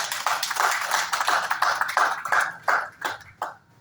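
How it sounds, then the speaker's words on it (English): A small audience at a half marathon event in Colombo claps in scattered, uneven bursts, individual sharp claps standing out close by, thinning and fading out toward the end. "A big round of applause for those men."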